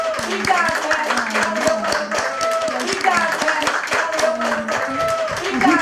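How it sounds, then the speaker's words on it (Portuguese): Hands clap steadily in a rhythmic beat at a Brazilian carioca TV show taping, with music and singing voices running throughout. "Vou terminar aplaudindo, aplaudindo."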